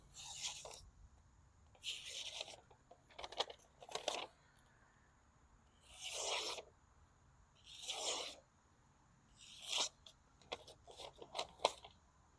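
A Kentucky puukko knife blade is drawn through material with light pressure in a series of separate rasping, scraping strokes, each lasting about a second, close and quiet with gaps between them.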